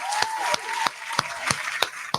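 Seven sharp hand claps spaced evenly about a third of a second apart, close and fairly loud, over a steady tone and soft room noise during a podcast.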